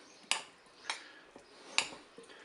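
A spoon mixing pasta salad with tomatoes, gruyère and ham in a bowl, making a few sharp clinks against the bowl at irregular intervals, with quiet soft stirring between them.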